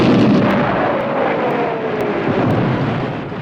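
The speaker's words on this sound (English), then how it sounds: "the Joe team avoid heavy artillery fire" A cartoon airstrike by Cobra forces on the G.I. Joe base brings a heavy roar of attacking aircraft with a descending whine, over a dense, continuous rumble of artillery blasts that fades slightly at the end.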